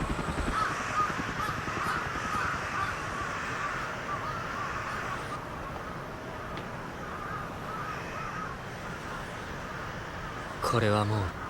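Crows caw steadily in an anime scene from Kizumonogatari, blended into a dense, continuous wash of score and ambience, with a brief sharp sound near the end.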